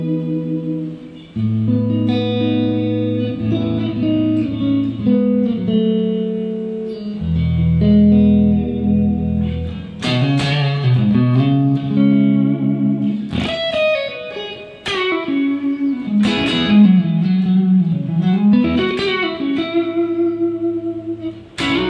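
Warm electric guitar on the neck pickup runs through a Kemper profiler with a soft overdrive, playing sustained chords and single-note lines with reverb, alone and without talk.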